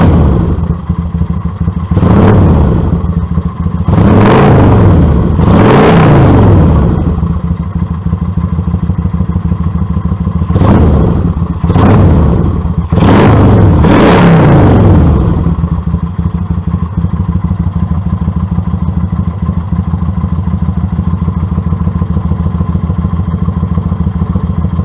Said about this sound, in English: Now watch what happens when I open up the throttle.